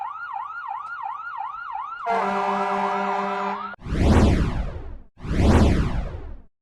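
A modern American ambulance siren yelps rapidly, shifts into a different steady electronic tone, then gives way to two loud, blaring horn blasts, all close and prominent.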